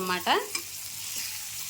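Small fish shallow-frying in a little oil on a hot tawa, a brief close scrape and clatter at the start, then a steady low sizzle.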